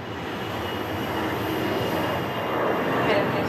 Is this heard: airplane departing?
yes